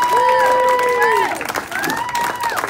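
A small group of people yell and cheer together in a room, a sustained rising and falling crowd shout lasting a couple of seconds before trailing off into scattered voices and clapping.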